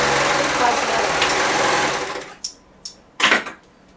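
A sewing machine stitches the cut edge of a knit sweater in a steady whirring run, then stops, leaving a few short bursts of stitching.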